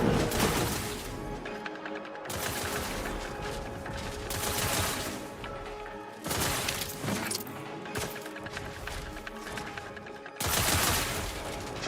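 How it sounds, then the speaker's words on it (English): Rapid bursts of gunfire from a firefight in The Outer Worlds 2, loud and dense, arriving in several clusters separated by brief lulls, with mechanical clatter mixed in. "What are you shooting at?"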